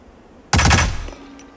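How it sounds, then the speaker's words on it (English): A short, loud burst of rapid gunfire in the video game Hitman, several shots fired in quick succession, then quickly fading into a low background hum. "I heard gunshots."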